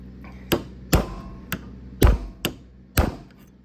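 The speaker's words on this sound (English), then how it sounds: "That little hammer ain't gonna do it. Let's get the big boy." Six heavy blows from a large hammer on a 1945 Farmall A tractor at an uneven rhythm, close and forceful, with dull metallic thuds and short ringing decays.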